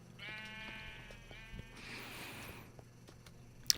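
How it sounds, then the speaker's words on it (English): Sheep on a wool farm in the video game Minecraft bleat in a couple of wavering calls, fairly close, over a low steady hum, with a sharp click near the end. "this is my sheep farm, my wool farm"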